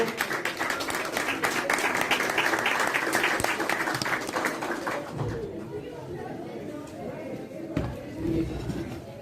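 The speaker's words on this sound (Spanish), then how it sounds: "Un fuerte aplauso." An audience claps loudly at a talk on 1990s Argentine black metal, a dense, steady roar of hands for about five seconds that thins and dies away, leaving scattered noise and a brief voice.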